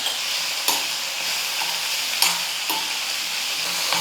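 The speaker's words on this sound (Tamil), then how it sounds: "இப்போ வெங்காயம், தக்காளி, இஞ்சி, பூண்டு எல்லாம் வந்து நல்லா வதங்கட்டும்." Onion, tomato, ginger and garlic sautéing together in a pan for a potato-pea kurma, with a loud, steady sizzle punctuated by a few sharp stirring scrapes.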